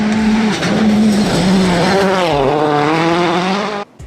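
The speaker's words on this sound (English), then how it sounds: "Green flag is out and we are racing in Sao Paulo, Brazil for the 4th time." Race cars tear around a circuit in Sao Paulo, Brazil, engines loud and close with rising and falling revving pitch and a tire squeal, sustained for several seconds before cutting off abruptly.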